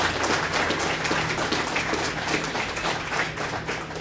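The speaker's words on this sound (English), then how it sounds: "So just give those folks a round of applause." A room full of people applauding fire and police personnel at a State of the City response event, sustained even clapping from many hands throughout, close and fairly loud, with no speech on top.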